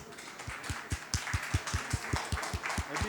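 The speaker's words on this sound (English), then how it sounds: "A bit more applause." Audience at a developers meetup clapping for a presenter, with sharp, distinct claps landing in a quick steady rhythm over a light bed of scattered applause.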